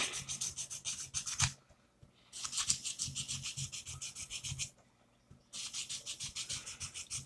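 Close, steady sanding on a lightsaber part to rough up its surface for glue, with three sustained rasping passes separated by brief pauses.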